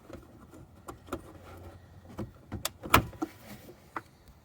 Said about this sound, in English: then the bumper skin will slide off